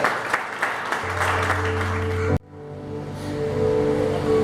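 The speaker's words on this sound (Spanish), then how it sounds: "Dale un aplauso al Señor en esta noche." A church congregation applauds during an evening service, a dense wash of clapping for a couple of seconds that cuts off abruptly, followed by a softer rise of crowd noise and a sustained tone.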